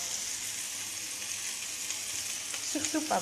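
Steady sizzling of wood ear mushrooms frying in a pan over a medium gas flame, a continuous hiss with a few louder crackles and stirring noises near the end.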